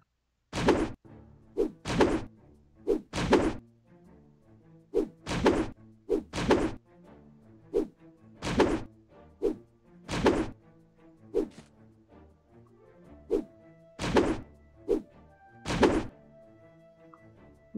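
Weapon strikes in My Time at Portia, a series of sharp, close thwacks and thunks landing in irregular bursts of two or three, over soft background game music.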